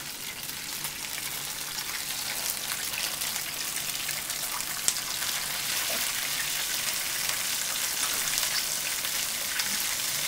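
A gluten-free vegan patty fries in a pan with a steady, loud, close sizzle that holds evenly throughout, with no talking.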